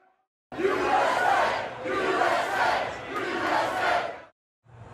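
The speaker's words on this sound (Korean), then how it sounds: "트럼프의 모습을 본 관객들이 소리를 지르며 환호했습니다" A football stadium crowd at a college game between Alabama and Georgia roars and cheers for Donald Trump, a loud, sustained wash of shouting that swells, dips briefly and then breaks off.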